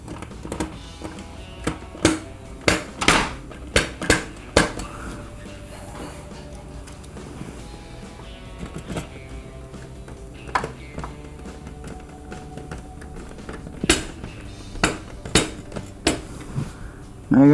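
A cordless drill or screwdriver drives screws into the dispenser door of a KitchenAid dishwasher, a series of short whirring bursts and clicks, near and fairly loud, with plastic and metal handling clatter between them and no talk.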